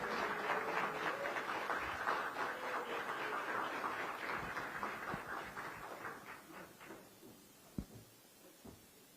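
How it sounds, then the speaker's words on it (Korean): Faint audience applause welcoming a speaker at a political talk concert, a steady patter of many hands clapping that gradually thins out and fades toward the end. "큰 박수로 이한주 원장님을 모시겠습니다."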